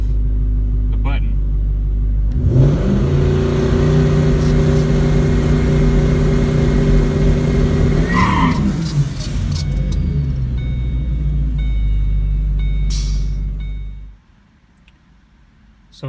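A boosted Ford Mustang idles on a transbrake, its engine drone rising as boost builds. The car then launches hard, the drone dropping away as it pulls off, and the sound cuts to near silence near the end.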